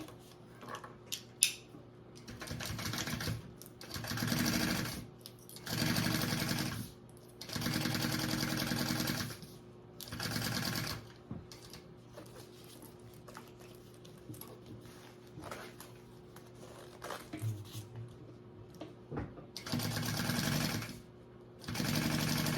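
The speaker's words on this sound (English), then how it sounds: "now I'm going to sew up my full seam allowance" A sewing machine runs a full seam allowance on a Louie waist bag in repeated bursts of fast mechanical whirring, broken by short pauses and fabric handling, close and clear.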